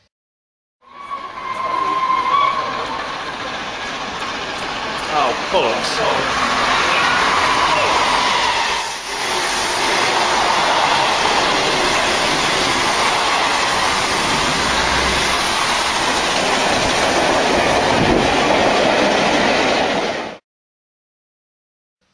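A train roars past on the rails nearby, a loud continuous rush and clatter lasting many seconds, with a brief exclamation from a bystander.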